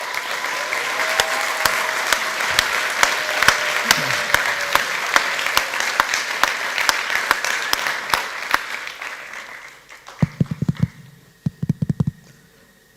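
Audience applause at a sports ethics and leadership summit keynote in Basel: sustained clapping from a large crowd that fades out, followed by a few loud bumps and handling knocks near a microphone.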